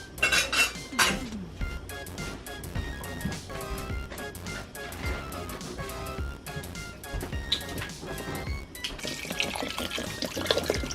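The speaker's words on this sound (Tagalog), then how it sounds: "Yan, damihan na po natin ng tubig." Tap water pours steadily into a metal pot of beef for mami, with clinks and clatters of the pot against the sink throughout and a brief spoken phrase near the start.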